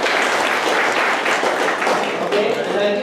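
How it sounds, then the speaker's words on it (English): Audience applause at a college lecture in Nashik, India, a dense continuous wash of clapping filling the hall for about three seconds, loud and steady with a voice or two faintly underneath. "Give her applause again."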